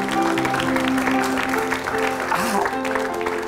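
A studio audience applauds for the guest Anji on a talk show, steady clapping filling the room with music playing underneath.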